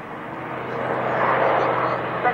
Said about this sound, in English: if you look to your left, P25 Mitchell in the lead.